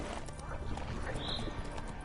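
Roach the horse gallops in the video game Witcher 3, a quick rhythmic clip-clop of hooves with a faint whinny partway through, under low game sounds and a nearby voice.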